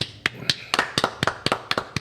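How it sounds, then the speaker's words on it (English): A handful of people clap in a round of applause, about a dozen sharp, evenly spaced claps close by, with no voices over them. "Let's all give them a round of applause."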